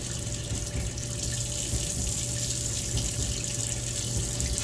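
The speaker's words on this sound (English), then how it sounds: "I'm just going to throw it in the sink. And as you can tell, water's constantly flowing over it." Tap water runs steadily over a waterproof phone case sitting in a sink, making a constant, close hiss of flowing water with no voices.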